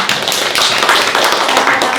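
Audience applause at a gathering in Indonesia, a dense, steady wash of many hands clapping at close range, sustained evenly for the full two seconds with no voices standing out.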